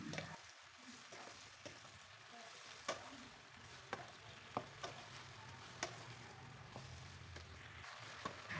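Chicken frying in a pan with teriyaki seasoning, a quiet continuous sizzle broken by scattered sharp clicks and scrapes as a spoon stirs it every second or so; no talking.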